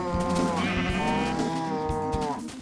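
Cattle and sheep in the video game Minecraft, with a loud, drawn-out lowing moo close by over a steady game background, no talking.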